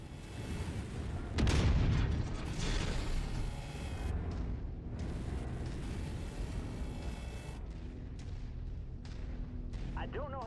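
Chemical tanks blowing up in MechWarrior 5 combat, a heavy booming explosion followed by rumbling blasts and weapon fire, with radio voices and battle chatter over the noise.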